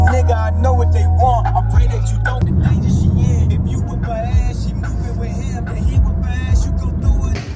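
A rented Avis car drives to a tournament venue, its low engine hum steady inside the cabin while people talk over it throughout.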